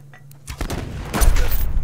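Gunfire in the survival game Subsistence, a burst of shots that swells into a loud, dense rumble of repeated reports, close and heavy, with no talking over it.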